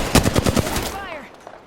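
A rapid burst of about six close, loud machine-gun shots in a video game, followed by a short ringing tail and faint after-sounds.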